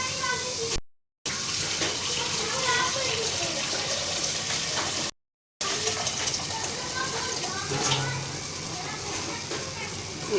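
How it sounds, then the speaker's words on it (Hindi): Water poured into a pot while making kadhi in a home kitchen, a continuous close gushing splash that runs nearly the whole time with two brief cuts, while someone talks over it. "थोड़ा सा हम पानी भी ले लेते हैं।"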